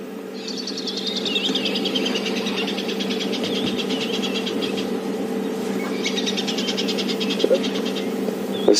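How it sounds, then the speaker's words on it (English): Tree squirrels giving alarm calls on an African safari near a pride of lions, two bursts of rapid chattering calls in the background over a steady low hum. "It's a tree squirrel alarm calling."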